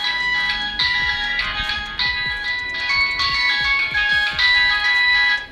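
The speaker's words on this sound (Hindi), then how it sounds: "काफ़ी आपको लाउड रिंगटोन मिल जाएगी" A DIZO Star 500 feature phone plays a loud electronic ringtone, a bright, beeping melody in repeated short phrases, close and clear with no talking.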